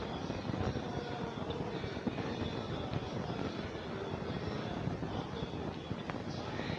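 Steady dense engine drone of a motorbike revving at high speed in the India Bike 3D video game, a continuous rough roar without pauses.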